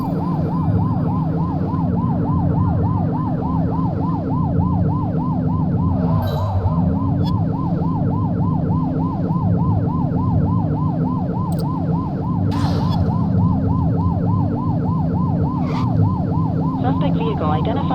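Police car sirens wailing in a pursuit in the video game The Precinct, a loud, fast, regular up-and-down wail repeating steadily over rumbling engine noise, with a brief lower sweep partway through.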